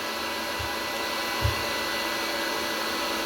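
A Wagner Furno 500 heat gun running, a steady loud airy whoosh of fan and blowing air that holds constant throughout, with a couple of faint low thumps partway through.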